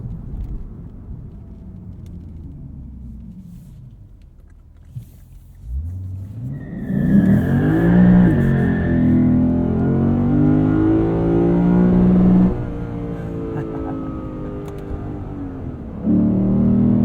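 A 2022 Lexus IS 500 engine, heard from inside the cabin, idles with a low rumble, then revs up strongly toward the rev limiter and holds a loud, rising roar before easing back.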